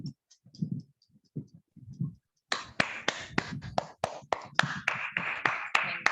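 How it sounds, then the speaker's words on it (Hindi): A small meditation group clapping together after a session, preceded by a few seconds of murmured voice, then sharp close individual claps in an uneven rhythm, with faint chatter underneath. "एक जोरदार ताली आज के ध्यान के लिए"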